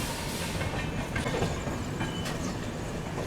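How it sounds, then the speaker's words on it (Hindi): The Kushinagar Superfast Express, running from Gorakhpur towards LTT, pulls into a station with a soft, fairly distant rumble of rolling wheels, light clatter and a faint squeal, heard alone without talk. "गोरखपुर से चलकर एलटीटी की ओर जाने वाली कुशीनगर सुपरफास्ट एक्सप्रेस आ चुकी है"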